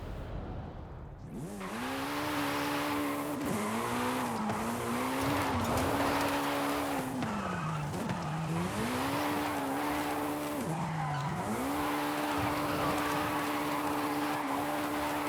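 A car drifting in Forza Horizon 5 on a test track, its engine droning loudly with rising and falling pitch as the tires squeal through repeated slides, with occasional talk over it.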